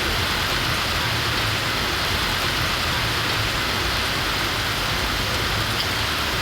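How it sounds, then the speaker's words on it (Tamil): Heavy rain pours over forested hills and dam areas such as Meghamalai and Kurangani, a dense, loud, unbroken roar of rainfall that stays constant throughout with no voices. "வனப்பகுதிகளில் கனமழையும் கொட்டி தீர்த்தது"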